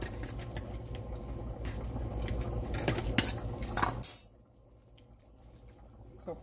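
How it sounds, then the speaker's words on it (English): Noodles mixed with sauce and Parmesan cheese in a pot or bowl produce repeated metallic clinks and scrapes of a utensil, growing busier before stopping abruptly into near silence with a faint low hum. "I'm going to mix all this together"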